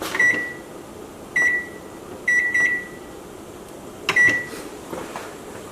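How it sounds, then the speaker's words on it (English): Several short electronic beeps from a kitchen timer keypad being set for 5 minutes, spaced irregularly, close and clear over a faint background hum. "we're going to set the timer for 5 minutes"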